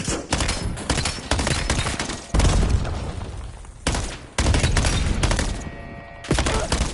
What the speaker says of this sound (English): Enemy grenade!